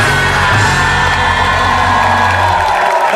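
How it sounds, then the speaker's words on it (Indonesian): An Indonesian TV talk-show studio audience cheers and whoops loudly, a dense, continuous roar of voices that holds steady throughout, with any clapping buried under the cheering. "Tepuk tangan sekali lagi untuk Pak Ijo dan Pak Ino."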